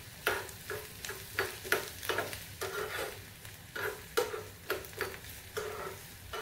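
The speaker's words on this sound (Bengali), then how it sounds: "পেঁয়াজ আর মটরশুঁটিটাকে ভালো করে ভেজে নেব।" Chopped onion and peas fry in mustard oil in a pan, a soft sizzle punctuated by a steady rhythm of stirring strokes, close but fairly quiet.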